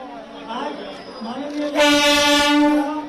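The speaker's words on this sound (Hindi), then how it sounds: "हरी झंडी दिखाने के बाद में रेल अपने गंतव्य स्थल की ओर चल चुकी है" MEMU passenger train pulling away after a flag-off ceremony at the new Kota railway station, its horn blaring loud and sustained for over a second amid crowd chatter and speech.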